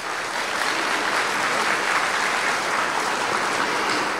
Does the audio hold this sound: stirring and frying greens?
no